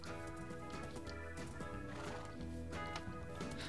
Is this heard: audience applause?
no